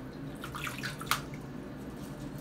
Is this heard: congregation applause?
no